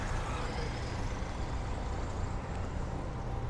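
A Sao Paulo metro bus fitted with air brakes rumbles steadily and heavily close by, a dense low engine drone filling the whole moment without a break.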